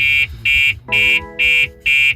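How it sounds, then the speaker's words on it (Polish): A loud electronic anti-theft immobilizer alarm on a BMW X4 beeping in five steady, evenly spaced pulses, close up, after ignition without the PIN code. "po 5 sekundach zaczyna nam syrenka alarmować nieautoryzowane odpalenie"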